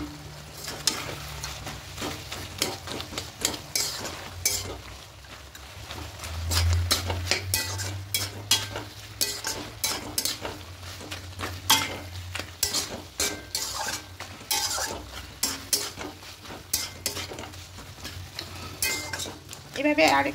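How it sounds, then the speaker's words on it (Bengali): Vegetables and fried lentil dumplings being stirred in a pan for a red spinach ghonto, with repeated scraping and clinking of a spoon against metal over a low background hum. "এভাবে একটু ঘেটে দেবো সবজিগুলোকে।"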